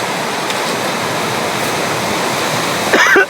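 Continuous roaring wash of ocean surf at a beach, loud and close, with a brief louder rustle near the end.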